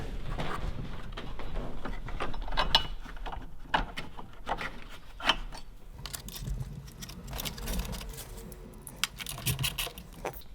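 Sharp metallic clicks and light clinks from tightening the nylock windshield center bolt on a Barnstorm dash relocation kit for an Indian Challenger motorcycle, coming in an irregular, close rhythm with no talking.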